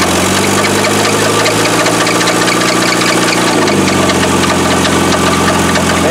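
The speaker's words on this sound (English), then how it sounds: "That sounds like a rod knock." An engine that has sat unstarted for 17 years idles loudly and steadily with a suspected rod knock, a continuous low rumble with a faint repetitive knocking and no talk over it.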